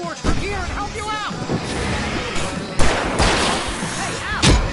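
Gunfire from the Alan Wake video game pops and cracks in rapid, uneven bursts, mixed with loud effects and shouted voices in a chaotic firefight.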